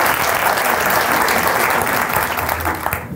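A stand-up comedy crowd applauds loudly, a thick, continuous roar of clapping hands that stays steady throughout and tapers slightly at the very end.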